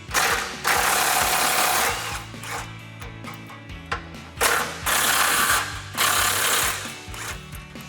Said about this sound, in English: So I'm going to grab a 13 millimeter socket first and remove this hanger bracket.